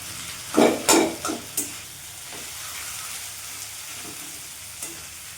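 Ginger, garlic and chili paste fries in a pan for mung dal. A few quick scrapes and clatters of stirring come first, then a steady, soft sizzle continues close by.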